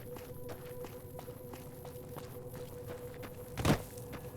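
Foley footsteps in Fallout New Vegas, a steady run of soft, evenly paced steps at low level over a faint tonal hum, with one louder thud near the end.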